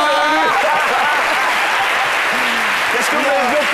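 A French television studio audience applauds loudly and steadily throughout, with voices talking over the clapping.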